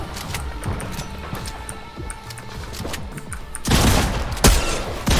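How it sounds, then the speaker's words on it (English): Rapid gunfire in Fortnite Chapter 3 Season 3 crackles in quick repeated shots, with a louder, denser burst of fire toward the end. "why am I even shooting off this way?"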